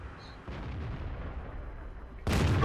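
KV-5 tank gun firing in the video game World of Tanks. One loud, sharp, booming shot comes near the end, after a low rumbling engine-like background, with no talking.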